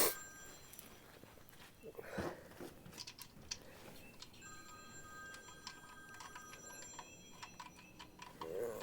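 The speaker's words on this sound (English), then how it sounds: "got a phone call" A telephone rings in a workshop during a remanufactured lower unit install on a Mercury 250 Pro XS outboard motor, with repeated thin electronic ring bursts at moderate distance over faint background noise.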